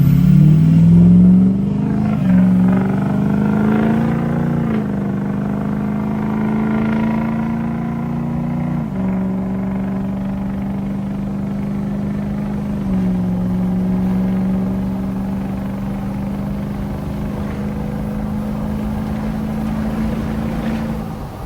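Ford 6.0 Powerstroke diesel truck exhaust revving loudly, a deep droning tone that rises and falls through a few sustained rev changes over about twenty seconds, close and alone.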